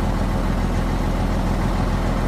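A Sisu truck's engine idles close by, a steady low diesel rumble with an even pulsing throb and no break throughout.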